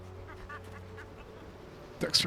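Ducks or geese in the Jade Empire video game quack and honk faintly under background sound, ending in a louder burst of calls.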